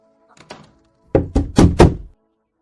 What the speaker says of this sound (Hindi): लगता है दरवाजे पर फिर कोई आया है, चलो आओ जाकर देखते हैं।